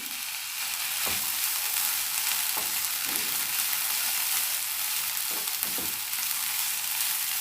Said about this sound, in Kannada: ನಾನಿವಾಗ ಇದಕ್ಕೆ 1/4 ಕಪ್ ಆಗುವಷ್ಟು ಬಟಾಣಿ ಹಾಗೆ 1 ಕಪ್ ಆಗುವಷ್ಟು ಕ್ಯಾಬೇಜಿನ ಹಾಕಿಬಿಟ್ಟು ಫ್ರೈ ಮಾಡ್ತಾ ಇದ್ದೀನಿ